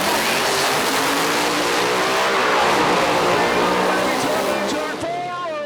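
A drag racing car on 275 drag radials blasts down the strip at a drag racing nationals event, a loud sustained roaring engine note dominating throughout, with a commentator's voice partly under it and a pitch sweep near the end.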